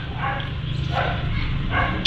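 A dog barks three times at a steady, spaced rhythm, moderately far off, over a constant low background rumble outdoors by a road where fish were being caught.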